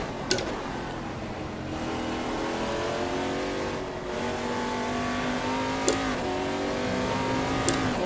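Race car engine in a racing video game without traction control, revving up through the gears with rising whines and brief shift breaks, loud and continuous.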